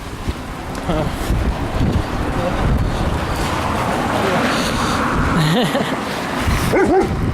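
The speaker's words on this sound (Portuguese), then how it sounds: "Mais um cachorro cheio de neve." A snow-covered dog barks outdoors during heavy snowfall in Ushuaia, with a few short, mid-distance barks and yelps over loud gusting wind noise on the microphone.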